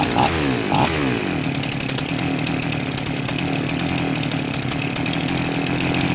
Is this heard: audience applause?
no